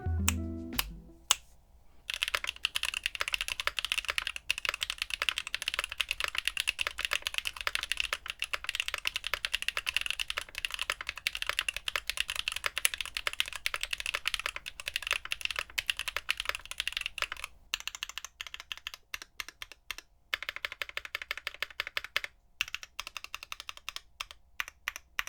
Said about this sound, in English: Here's the typing test.